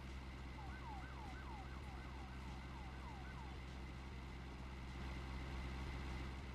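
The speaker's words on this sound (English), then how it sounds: "I just heard police siren." A police siren in a bakery simulator video game wails in repeated rising-and-falling sweeps over a steady low engine rumble, moderately loud and continuous.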